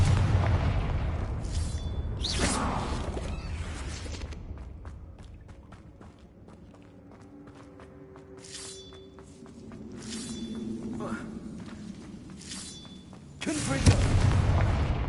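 Booming magical explosions from the Confringo spell in the Hogwarts Legacy video game, several heavy blasts with rumbling tails and chiming effects between them, while a voice talks over the action.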